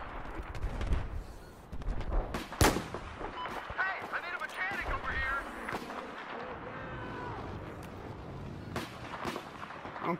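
Rapid gunfire from a Battlefield 4 match, with sharp close shots and bursts repeating throughout, some loud cracks standing out, while a player talks over the shooting.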